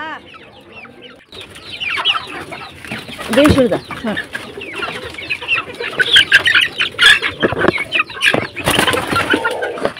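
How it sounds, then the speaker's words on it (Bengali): A flock of chickens clucking and squawking busily at afternoon feeding time in a village, with some wing flapping, close and lively, a voice talking briefly among them. "এখন মুরগিগুলাকে খেতে দিতে যাবো, এখন বিকাল হয়ে গেছে"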